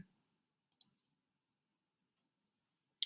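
A computer mouse gives a quick double click, sharp and close, followed by silence and another brief click burst at the end.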